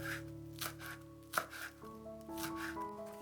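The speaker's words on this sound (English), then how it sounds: "Mince the chives." A knife mincing chives on a board, several quick close chops in an uneven rhythm over soft background music, with no speech.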